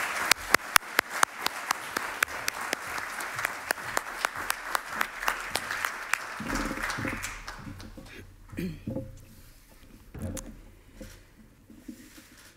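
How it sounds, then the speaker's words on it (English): Audience applause welcoming Princess Laurentien at an evening talk on Ukraine and European culture: a few loud, sharp individual claps ring out over dense clapping, which thins and fades after about six seconds into quiet room noise and a voice. "give her a warm applause"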